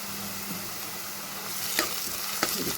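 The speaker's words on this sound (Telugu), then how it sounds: "అల్లం పేస్ట్ కూడా పచ్చివాసన పోయేంత వరకు ఫ్రై చేసుకోవాలి" Ginger garlic paste frying in a pan for a mushroom masala curry, a steady low sizzle with two sharp clicks of a spoon against the pan near the end.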